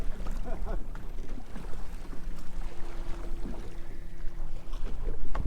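Rough waves slap and churn against a small fishing boat on open water, with wind buffeting the microphone in a continuous, choppy rumble that surges louder near the end.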